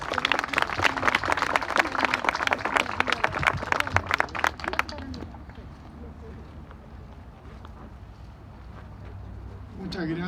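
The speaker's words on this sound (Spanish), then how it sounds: "Le damos un aplauso y lo escuchamos." An audience at a book presentation in Chile claps loudly for about five seconds; the applause then fades into a quieter room murmur.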